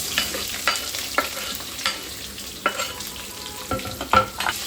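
Long-cut onions fry in oil with a low steady sizzle, broken by repeated scraping clicks of a spoon stirring in the pan, close and alone without voices.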